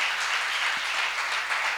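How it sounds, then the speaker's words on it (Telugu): A church congregation at a Sunday service claims in steady, dense applause, a continuous wash of many hands clapping throughout with no distinct voices. "గట్టి చప్పట్లు కొట్టి దేవుని మహిమపరచండి"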